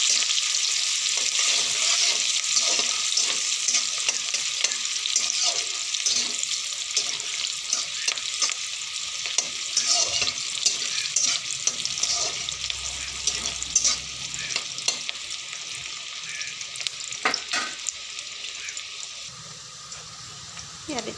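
Onions sizzling in hot oil in a pan while cooking a taro dish, a steady bright frying hiss with occasional stirring scrapes and clinks, fading slightly toward the end.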